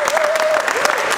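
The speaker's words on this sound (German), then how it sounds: "mit einem riesengroßen Applaus an die Sparda-Bank Hamburg" Applause at a Mau Mau card game charity cup event, with a dense, steady patter of clapping hands and a brief tonal whistle or voice layered over it.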